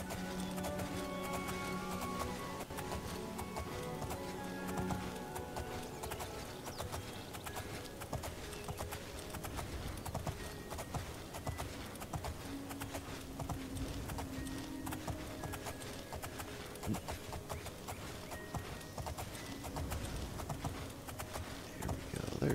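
Horse hooves galloping in the video game Oblivion, a fast steady clip-clop rhythm running continuously and close, with faint background music underneath.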